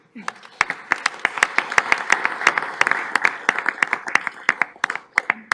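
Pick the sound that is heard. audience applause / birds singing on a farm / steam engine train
audience applause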